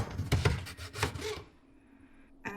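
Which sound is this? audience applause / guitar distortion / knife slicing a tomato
knife slicing a tomato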